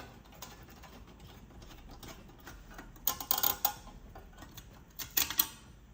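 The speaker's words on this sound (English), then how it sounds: "I'll unscrew these 3 bolts that hold in the flange" Three flange bolts are loosened on a turbo on an AWD Silverado, heard as two short bursts of quick metallic ratcheting clicks, close and fairly quiet over a faint room hiss.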